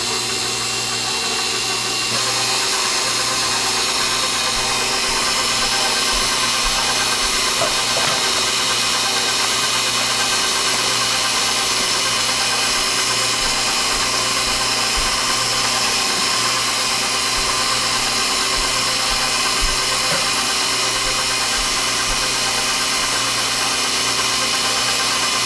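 Electric hand mixer beaters whir steadily through a pumpkin mixture, a continuous motor drone that holds loud and even throughout with no talking.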